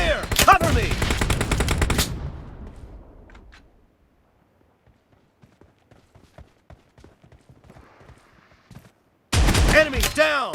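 Video-game gunfire from an S686 shotgun and a Groza rifle: a dense, loud burst of rapid shots at the start, a quiet stretch of faint clicks and taps, then another sharp, heavy volley at the end.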